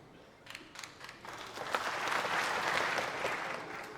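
Applause from the audience at a political rally swells from a few scattered claps into sustained, dense clapping from a large crowd, heard fairly close with no speech over it.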